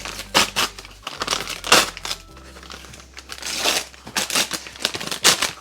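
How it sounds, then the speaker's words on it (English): Crinkling paper tears and rustles as a bag of cake flour is ripped open, in several sharp crackling bursts close by with short pauses between them. "I do keep my cake flour in a bag because I'm going to rip this"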